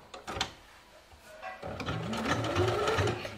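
A sewing machine runs a straight stitch on a ruffled skirt, starting with a few clicks and clunks before settling into a rapid, rhythmic whirring hum that builds in level, close up and quiet.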